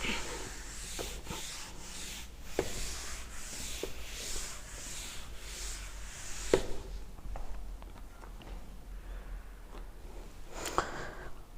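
A chalkboard is rubbed clean in a classroom, with repeated brisk scraping strokes close by at a soft level, then quieter scattered rubbing and taps.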